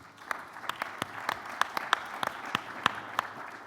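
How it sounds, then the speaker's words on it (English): Sparse clapping from a conference audience, a handful of distinct sharp claps over a soft bed of general applause, fairly near and moderately loud. "We should all clap for that."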